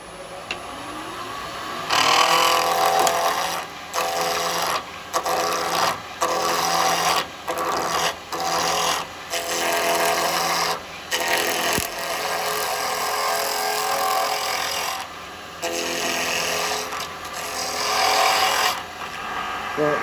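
A carbide square chisel roughs down a spinning wood blank on a lathe, giving loud, rough scraping bursts that start and stop repeatedly, with brief pauses between passes.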